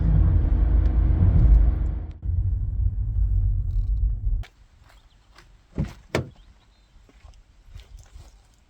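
A car drives up the road near Rest and Be Thankful in the Arrochar Alps. There is a loud, close engine and road rumble for about four seconds, then it cuts off into quiet with a few sharp knocks and clunks.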